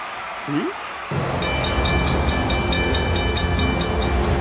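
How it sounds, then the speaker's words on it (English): A train rumbles past close by, heavy rolling noise with rhythmic clacking of wheels over rail joints, following a brief quieter moment. "the railway line switched after the train went past"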